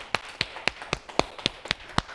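Nine sharp hand claps patting the left arm as part of a self-care body-waking routine, evenly spaced at a steady, quick rhythm, close and crisp with nothing else heard.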